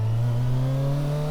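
A 2024 Kawasaki Versys 1000 S with a 1000cc inline-four engine accelerating, its steady loud engine tone rising smoothly in pitch for a moment.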